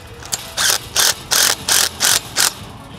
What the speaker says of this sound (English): We're gonna go ahead and tighten these two top hinges.